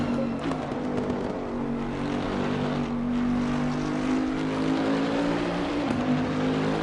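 NXTGEN race cars run at the Oulton Park circuit, their engines droning loud and steady at a sustained high pitch for several seconds, with no talk over the sound.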